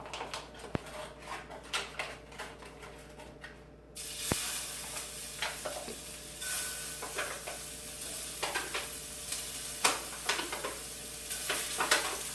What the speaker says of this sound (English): All we're going to do is sear our meatballs.